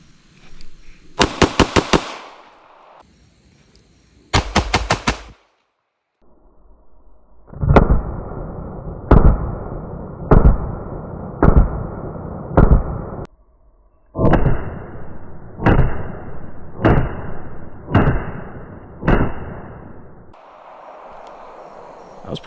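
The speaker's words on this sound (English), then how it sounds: "Let's run these just as fast as I can pull the trigger." Rapid pistol fire from a Smith & Wesson Bodyguard 2.0 on an IDPA practice target: a fast string of sharp, loud, close shots in a steady rhythm, with a pause partway through and a second burst of similar shots.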